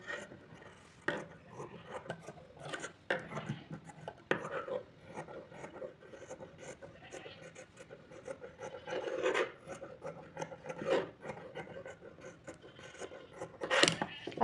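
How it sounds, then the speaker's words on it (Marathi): Scissors trim away extra fabric from a stitched baby frock, producing irregular rasping snips and rustling scrapes, soft and close, with a few sharper cuts. "आपल्याला जो एक्स्ट्राचा भाग आहे तो कट करून घ्यायचा आहे"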